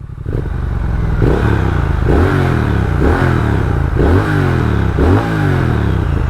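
A Triumph Speed Twin 1200 twin-cylinder motorcycle engine with stainless twin exhaust revs up repeatedly in loud, rhythmic bursts, about one per second, with a steady rumbling idle between them. Close and continuous.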